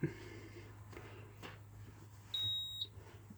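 A single electronic beep from a Menvier MF200 alarm panel buzzer rings out steadily for about half a second, over a low hum and faint room noise.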